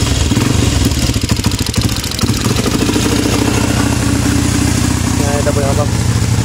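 A Euro 125 motorcycle fitted with a rapid backfire setup runs loud and close, a steady buzzing engine with a fast crackling patter throughout, and a voice talks under it.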